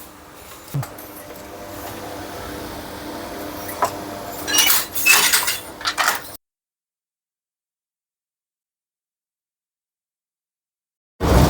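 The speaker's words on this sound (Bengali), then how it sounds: "এই দেখুন এইখানে তাঁত বোনা হচ্ছে।" Nearby handloom weaving in Phulia, West Bengal: mechanical clacking and rattling that builds into busier bursts, then silence, with a short loud burst returning at the end.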